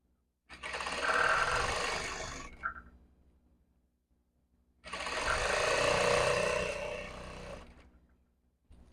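An electric sewing machine stitches a plain straight seam on a salwar in two runs of about two seconds each, separated by a short pause, close and loud with no voices.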